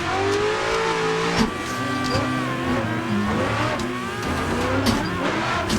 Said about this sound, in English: that's how you drift in Klutch Kickers AI.